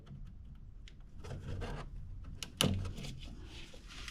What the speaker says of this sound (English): I'm going to go ahead and cut this wire tie